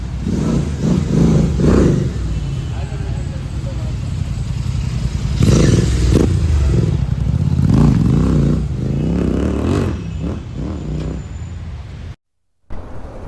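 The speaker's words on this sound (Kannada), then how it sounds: "ಇನ್ನೊಂದು ಸಲ ಟೆಸ್ಟ್ ಡ್ರೈವ್ ಹೋಗಿ ಬರ್ತಾರೆ ಅವರು" A vehicle with a newly replaced brake master cylinder and lever, after a roadside brake failure, pulls away on a test drive in a workshop setting, its engine loud and near, revving over a rough clattering idle with voices nearby.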